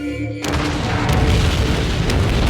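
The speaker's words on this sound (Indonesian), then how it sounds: "kemudian West meledakkannya" A sudden loud boom erupts after a brief quiet moment, followed by a sustained roaring rumble that fills the rest of the clip.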